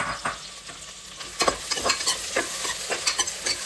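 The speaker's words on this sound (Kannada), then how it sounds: "ಅದು ನೀಟಾಗಿ ಫ್ರೈ ಆಗಲಿ." Long-sliced onions, two of them, fry in a pan for mushroom pulao, giving a steady close sizzle broken by scraping stirs and soft clatter, with no talking.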